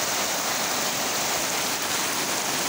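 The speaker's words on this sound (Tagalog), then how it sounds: "Paabot na ang tubig sa lakas ng baha guys." Dense, steady hiss of heavy rain together with rushing flood water in Surigao del Sur, loud and continuous with no break or voices.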